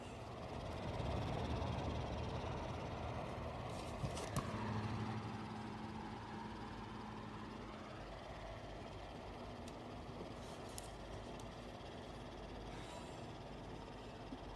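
A ventilation fan motor runs on test for a homemade Xiaomi-filter air purifier meant for parrot supplies, giving a faint, steady whooshing hum with a few small clicks.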